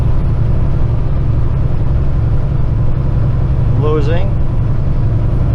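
A heavy Kenworth truck hauling 133,000 pounds climbs a hill at 1400 RPM, a loud, steady low diesel drone filling the cab, with someone talking briefly over it.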